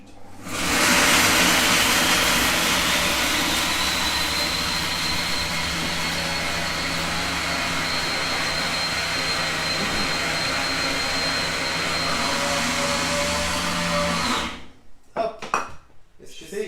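An i-Cook'in kitchen robot runs manually at speed 8, blending nuts for a praline spread. A loud, steady whirring roar fills about fourteen seconds, then cuts out, leaving clattering noises.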